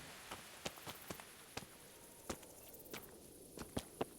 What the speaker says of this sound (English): Oh, and the rain stops immediately after a dramatic moment is passed.